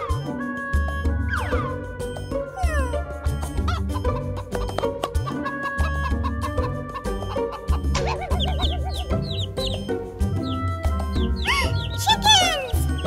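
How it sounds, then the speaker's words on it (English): Chickens cluck in quick, repeated bursts over a busy layer of tonal, music-like sounds and voices. "Chickens!"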